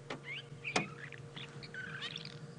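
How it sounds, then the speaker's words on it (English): Small birds chirping in the early morning on a safari drive, with a few brief scattered calls and light twittering over a quiet outdoor background. "There we go, lovely little birds."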